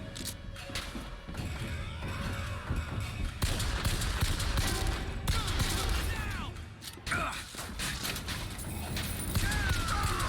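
Gunfire in the shooter game Bioshock Infinite, with sharp shots and heavy blasts cutting in over a busy, loud soundscape of combat noise, with a distinct burst near the middle and another toward the end.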